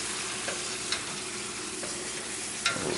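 Homemade potato chip slices frying in oil, a continuous close hiss of bubbling with a few brief clicks of stirring or utensil contact, no voices.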